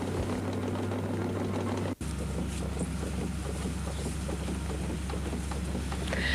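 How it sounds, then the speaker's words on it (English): RNLI T95 Talus tractor hauling a lifeboat out of the water, its engine giving a steady, close drone under wind noise, with one brief dropout partway through. "The tractor's powerful engine hauls out the lifeboat."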